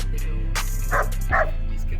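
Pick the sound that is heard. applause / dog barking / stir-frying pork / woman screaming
dog barking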